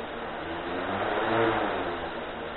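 Motors of a DJI Flame Wheel F450 quadcopter spinning up indoors, a close, continuous whirring drone that swells slightly in the middle and then eases back.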